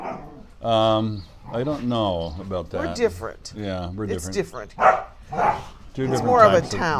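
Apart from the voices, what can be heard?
dogs barking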